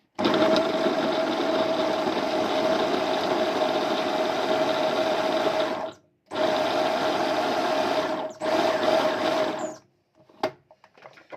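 An electric food processor minces a peeled, washed onion, a loud steady motor whine running in three bursts separated by short stops, then a few quiet clicks and knocks as it falls silent.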